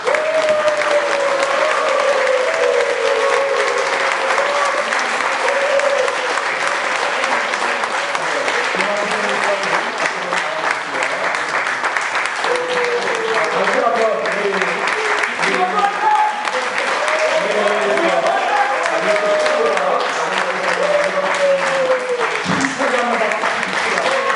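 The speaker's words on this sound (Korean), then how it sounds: "기립박수로 하겠습니다." Standing applause from a church assembly at a presbytery meeting, loud and continuous for the full stretch, with voices from the gathered crowd mixed in.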